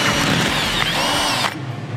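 A power drill with its bit biting in runs loud and steady as a dense, gritty whir, then cuts off abruptly near the end, leaving a quieter rattling tail.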